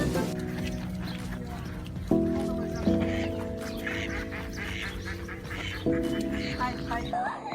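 Ducks quack repeatedly in a farm duck enclosure where goats have broken in, their harmonic calls layered over a steady background murmur with some voices present.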